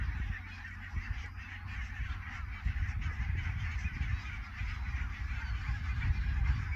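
Greylag geese honk outdoors at a distance, a continuous noisy flock chatter over wind and low rumble, with no single call standing out clearly.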